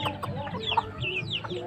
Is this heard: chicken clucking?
yes